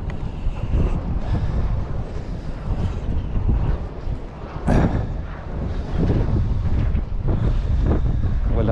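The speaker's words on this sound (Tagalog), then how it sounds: "Kasi malakas yung hangin eh." Strong wind buffets and roars across the microphone without letup on a stormy seashore, with surf rumbling underneath and a sharp gust or knock partway through.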